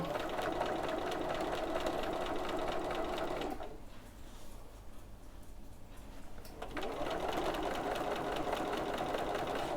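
Sewing machine stitching piping onto a bag panel, a rapid mechanical chatter that runs loud and close, stops for about three seconds with the needle down, then resumes at the same steady pace.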